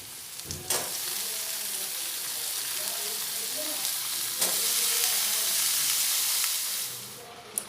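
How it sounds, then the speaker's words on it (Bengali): Sliced ridge gourd dropping into hot oil with onions in a pan, starting with a sharp crackle and settling into a loud, continuous sizzle and hiss, with a few clanks of stirring, no talking. "এবার ওই পেঁয়াজগুলোতে দিয়ে দেব এই যে এইভাবে কেটে নিয়েছি ঝিঙাগুলো"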